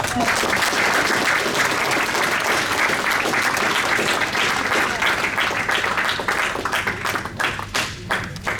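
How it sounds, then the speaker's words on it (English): Conference audience applauding the panelists at a green-themed gaming expo session, a dense, steady wash of many hands clapping that thins out near the end into scattered claps. "I'm going to clap for you."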